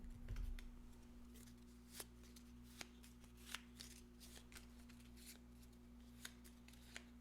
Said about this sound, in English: It's strange to shuffle only 4 cards.